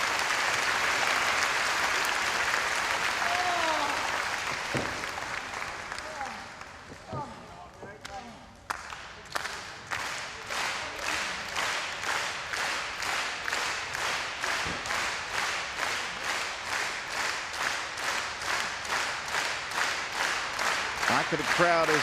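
A wrestling crowd at a New Japan Pro-Wrestling event applauds, first as a dense wash of cheering and clapping, then settling into loud rhythmic unison clapping that continues steadily, with a commentator talking over it.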